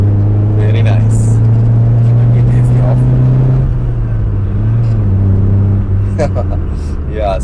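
A 1987 Toyota Corolla AE90 with a 5-speed manual is heard from inside, its engine holding a steady, loud droning hum that shifts pitch midway as gears change. People talk over it.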